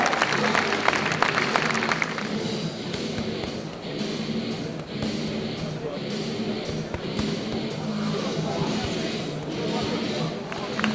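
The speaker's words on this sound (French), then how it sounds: "On peut applaudir les filles, Anthony, David, David et Manuel." Group applause rings out for a team of participants, a brisk burst of clapping in the first couple of seconds that gives way to people talking over background crowd noise.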